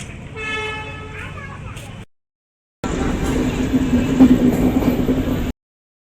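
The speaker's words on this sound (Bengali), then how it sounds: "ওদিকে ট্রেনটা আসে গেলো" A train sounds its horn in tonal blasts near a market, then after a short gap its loud, steady rumble rolls close by, with voices mixed in.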